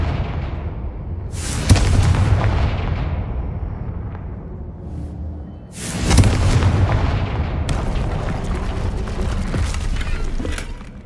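Confringo fire-blast spell in Hogwarts Legacy, with two heavy booming explosions a few seconds apart, each trailing into a long rumbling roar with crackle, loud and close.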